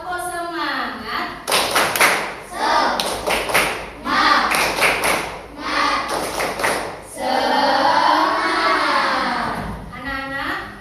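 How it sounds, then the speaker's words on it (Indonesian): Young pupils in a classroom chant and clap the rhythmic 'tepuk semangat' routine, with sharp clap bursts in patterned groups alternating with their sung voices, loud and close throughout. "Tepuk semangat."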